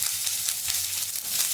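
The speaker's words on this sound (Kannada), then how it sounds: "ಒಗ್ಗರಣೆ ಬೆಂಡೆಕಾಯಿ ಪಲ್ಯ." Tempering crackles and sizzles in hot oil with onion for an okra stir-fry, a steady bright hiss that holds loud and even throughout, with no voices over it.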